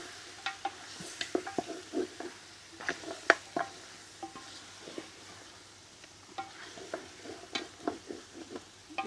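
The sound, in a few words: stirring beef pilau paste cooking in pot outdoors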